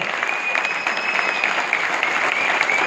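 Dense, steady applause from a large crowd, continuous clapping filling the room with a bright, sustained patter at full volume.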